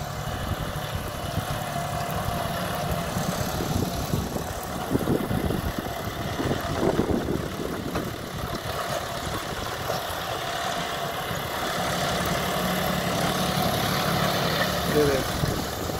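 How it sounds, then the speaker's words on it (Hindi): A 55 HP John Deere 5210 Gear Pro tractor engine idles with a steady low rumble and knocking throb, continuous throughout, with muffled voices in the background. "55 HP का ट्रैक्टर है"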